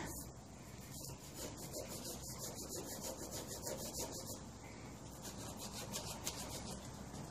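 A Scotch-Brite pad scrubs a rusty chrome handlebar on a Honda CT70, making a steady close, faint rasping rub in repeated back-and-forth strokes.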